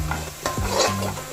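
Onion, ginger, green chili and garlic frying in a pan for a street-style tapioca and chicken dish, a steady close sizzle with scraping stirs of a spoon across the pan, no voices.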